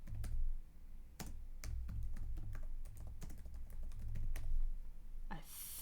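Keys clatter on a computer keyboard in irregular bursts of close, crisp taps, with a brief rushing noise near the end.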